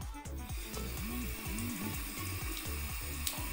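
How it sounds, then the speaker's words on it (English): Warm water runs from a tap into a sink as a cup is rinsed under it, a steady close splashing stream with faint clinks, no talking. "The cup, you just rinse it with warm water."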